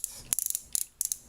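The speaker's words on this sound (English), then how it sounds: "There are ratchets in the knee though. Really good ratchets." Crisp little ratchet clicks from the knee joint of a Transformers Generations Voyager Class Springer plastic toy, heard close up as a few short, quick bursts of ticking with brief pauses between them.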